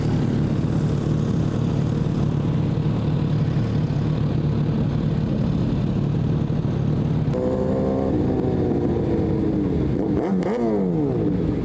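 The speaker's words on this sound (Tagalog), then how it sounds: "Sarap ng tunog ng motor ni Asher." A steady, rumbling motorcycle engine hum runs throughout, close and continuous, with the pitch rising and falling as the motor revs near the end.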